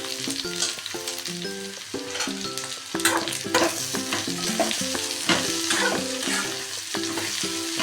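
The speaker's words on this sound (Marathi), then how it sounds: "आपलं कांदा छान असं परतून झालं आहे" Sliced onion is stir-fried in a pan for a bitter gourd dish, with continuous close sizzling and rhythmic spatula scraping and stirring over a steady fry. Faint background music plays underneath.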